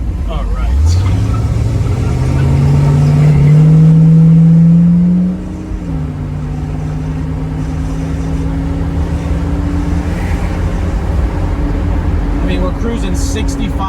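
A 1967 Pontiac Firebird revs up and shifts, then cruises at 65 mph with a steady engine drone and road hum inside the cabin.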